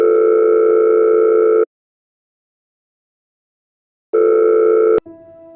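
A telephone ringback tone sounds as two long, steady electronic purrs separated by silence, the second cut off abruptly by a click as the call is picked up.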